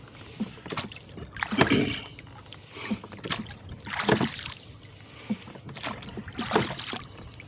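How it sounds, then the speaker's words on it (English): A rowboat rowed across Lake Hennessey toward the dam, with rhythmic oar strokes splashing and swishing about every second or two, close and clear over quiet water, no voices. "We're at the southwesterly end of the lake, rowing toward the dam"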